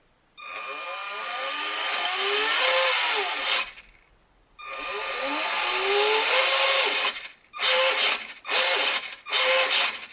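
Noisy Fayee FY003-1 RC car with a rough gearbox and motor, loud whining buzz running in several bursts, starting and stopping with short pauses, close up and alone.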